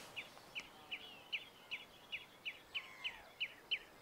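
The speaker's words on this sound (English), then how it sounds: "You can hear the birds now." Birds sing in mountain woodland at Mount Charleston, giving about a dozen short, evenly spaced high chirps over four seconds. The calls sound moderately distant and fairly faint against a quiet outdoor background.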